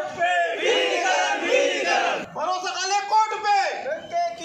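A crowd of bus depot employees shouts and cheers loudly together in a celebration, with voices rising in sustained chanting bursts.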